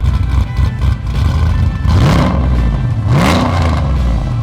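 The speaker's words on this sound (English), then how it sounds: "you wanted to drive to work in a 650 horsepower Trailblazer" A nitrous-fed 650 horsepower Trailblazer hot rod engine revs, a deep rumbling idle rising into two quick throttle blips with climbing pitch, loud and close, no talking.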